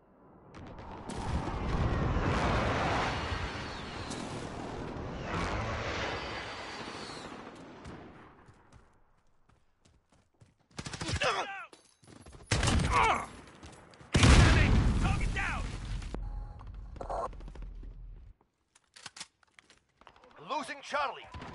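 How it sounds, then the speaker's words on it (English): A precision airstrike in a video game: loud, broadband blasts and rattling gunfire in dense bursts, then a quieter gap followed by several more sharp explosions, with voice callouts mixed in. "Enemy precision airstrike."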